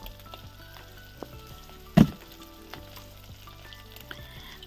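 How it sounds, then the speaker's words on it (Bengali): Fish with roe shallow-frying slowly in oil, a soft steady sizzle with a sudden loud clatter near the middle, close by and otherwise quiet. "সেই জন্য অনেকক্ষণ থেকে এপিট ওপিট করে ভেজে নেবো আর কি।"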